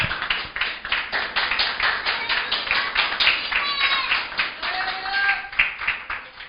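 Church congregation claps along in steady rhythmic beats during a sermon, with a preacher's voice and music carrying over the clapping throughout.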